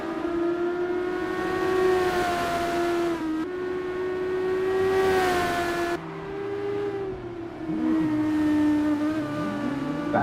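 A Formula Student race car screams around the Imola circuit, its engine a high sustained whine rising and dipping with throttle through a quick corner sequence, loud and close, with a second pitch sweeping near the end.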